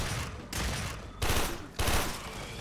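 Rapid gunfire from the player's weapon in the video game Warframe, sustained bursts of loud shots with two sharper, louder volleys toward the end, no talking.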